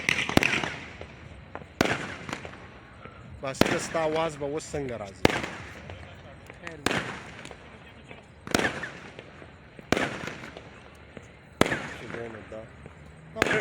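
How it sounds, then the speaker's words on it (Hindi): Fireworks at a wedding burst in a series of sharp, loud cracks spaced a second or two apart, with people talking in between the blasts. "जहाँ पे शादी हो रही है वहाँ पे थोड़ा सा फायर वर्क शुरू हो गया"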